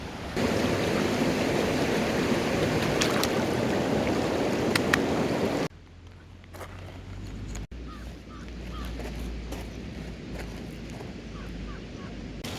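A river flows just below an outdoor stone cooking spot, a steady broadband rush that is loud for the first few seconds, then drops to a softer wash over low wind rumble.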